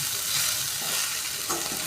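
Bottle gourd and carrot frying in a little oil, a steady loud sizzle with faint stirring scrapes throughout, no voices.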